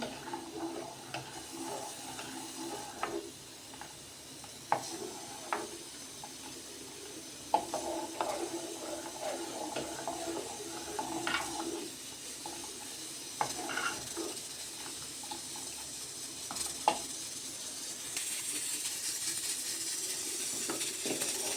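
Fruit salad is stirred in a bowl at home, giving soft wet sloshing and scattered utensil clinks. The sounds are fairly quiet and uneven throughout.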